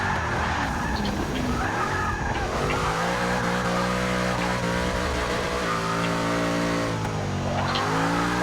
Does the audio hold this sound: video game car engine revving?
yes